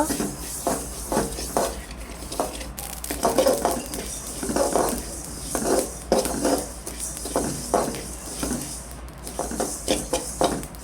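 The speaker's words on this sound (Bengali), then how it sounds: "এখন আমি শুকনা খোলায় ভেজে নিব।" Mustard seeds, fenugreek, ajwain and other whole spices dry-roasted in a pan, heard as repeated scraping and rattling strokes of a spatula against metal, close and fairly loud, with no speech.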